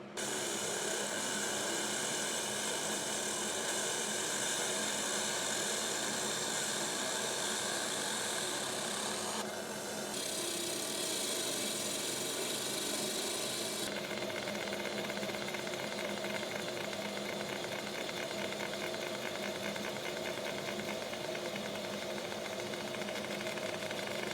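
A laser engraver etches a brass plate with a continuous buzzing hiss that runs steadily throughout, briefly dipping and shifting tone partway through, with no voices.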